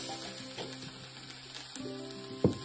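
Carrots and onions fry in a pan for a beef and maple dish, a steady close sizzle with a few scrapes and one sharp clatter near the end.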